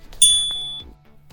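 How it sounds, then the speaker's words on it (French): A single bright notification bell ding rings out clearly, its metallic tone decaying over about half a second against quiet background. "n'oubliez pas la petite cloche de notification juste au-dessus"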